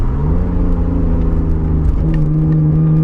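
A Nissan R32 Skyline GT-R engine revs close up, its strong buzzing note climbing in pitch and then holding high and steady, loud and alone without voices.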